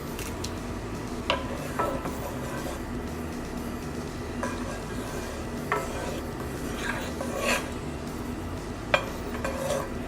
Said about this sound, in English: And as you bring it up to a boil, just remember to keep on stirring.